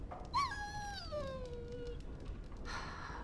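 A dog in the video game Dragon Age: Origins lets out a single high, drawn-out whimpering howl that slides downward, quiet and alone, followed by faint ambient noise.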